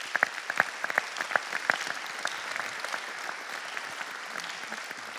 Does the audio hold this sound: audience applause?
yes